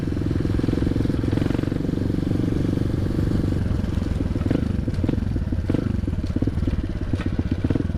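A KTM motorcycle fitted with a DTracker Norifumi Evo stainless exhaust, a swapped carburettor and a swapped CDI runs at a steady, close, throbbing idle. After about four seconds the engine breaks into rougher, clattering revs.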